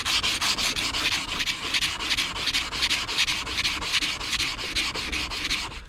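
A chrome hub cap on a Cub Cadet 782 garden tractor is scrubbed with WD-40, making steady, rhythmic back-and-forth rubbing strokes, close and loud, repeating about twice a second for six seconds.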